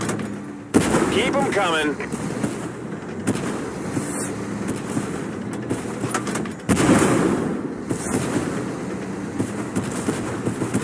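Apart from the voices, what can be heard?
tank gunfire in the video game Zarkon Tank Force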